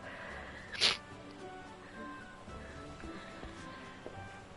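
A single short sneeze bursts out once near the start, fairly close, over a quiet background of soft game sounds in a Final Fantasy XIV playthrough.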